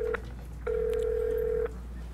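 A telephone keypad tone sounds clearly: a short beep, a pause, then a longer steady tone lasting about a second, over a low constant hum with no talking.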